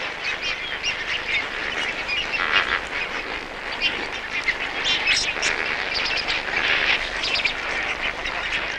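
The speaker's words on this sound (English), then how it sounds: "Lesser flamingos are a sort of composite water bird." A large flock of lesser flamingos honks and gabbles continuously, a dense overlapping chorus of nasal calls at moderate distance with no single bird standing out.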